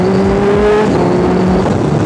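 A Ducati V4S or Kawasaki H2 superbike engine revs briefly under light throttle, a loud, close, rising mechanical roar with a strong buzzing tone.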